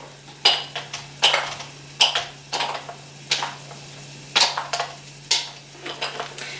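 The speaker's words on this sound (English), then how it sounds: "once you've got your 200 grams of chocolate, you need to put it into your bowl" Pieces of chocolate are dropped into a bowl for baking, a series of sharp clattering impacts spaced about a second apart, each followed by smaller rattles, close and clear over a faint steady hum.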